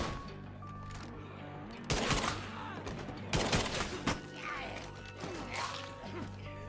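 Shotgun blasts in the zombie survival video game State of Decay 2, a few loud booming shots over a steady game soundtrack and noisy combat, with someone talking excitedly.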